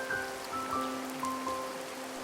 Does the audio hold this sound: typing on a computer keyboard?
no